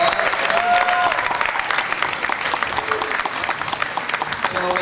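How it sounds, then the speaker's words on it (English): A crowd at a youth basketball all-star game claps in dense, sustained applause, with some voices audible underneath. "Big round of applause"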